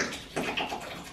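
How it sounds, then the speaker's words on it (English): Water runs from a tap into a bathtub being filled for a child's bath, a short, faint, steady splashing rush heard alone. "Why you turning that water on?"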